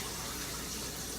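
Steady rushing water pours out of a pot in a continuous gush, close by, with no pauses and no voices.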